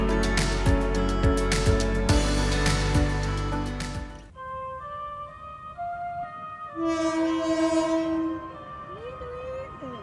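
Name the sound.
passenger train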